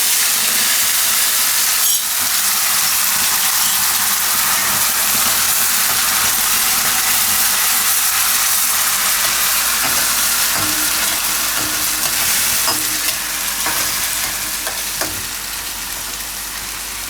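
A puree of onion, ginger, green chili and garlic hitting hot oil already seasoned with cumin and asafoetida, a loud, dense, continuous sizzle up close that eases slightly toward the end, with a few faint utensil knocks.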